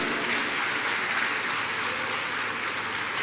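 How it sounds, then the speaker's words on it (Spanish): Sustained applause from a congregation at a church service, moderately distant and fairly quiet, with a steady texture of many hands clapping. "Dele ese aplauso al Señor Jesucristo."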